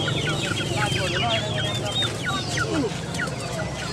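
Chickens cluck in a dense, overlapping chorus at a busy animal market in Palembang, close and continuous under steady background noise.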